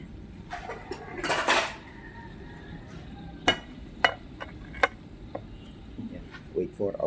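A lid is set over a pan of mussels with a metallic clatter, followed by several sharp separate clinks and taps of cookware.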